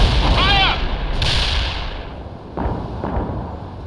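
A tank fires a HEAT round in World in Conflict, a sharp, loud cannon crack followed by a rumbling tail, with radio-style voices heard just before and a couple of fainter distant reports after.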